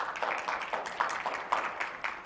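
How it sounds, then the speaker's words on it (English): An audience at a business conference claps for a speaker named Steve, a modest, fairly faint patter of hands that stays steady for a couple of seconds. "please give a round of applause for Steve"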